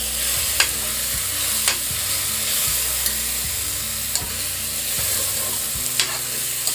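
Raw papaya sautés in a pan with chilli powder, turmeric and salt, giving a steady, close hiss of frying. A spoon stirs and scrapes at regular intervals throughout.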